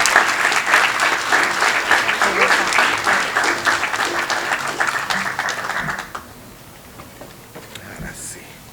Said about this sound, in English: If we could get a round of applause for her too.